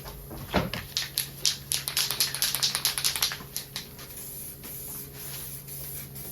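Spray paint hisses onto parts of an RS Turbo Escort in quick short bursts, a rapid run of sharp, close spurts that then settles into one continuous steady hiss.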